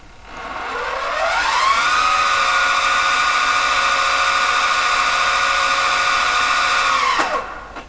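A mini lathe's brushless motor spins up with a rising electric whine, holds a steady high-pitched tone for several seconds, then winds down quickly, loud and close with no talking.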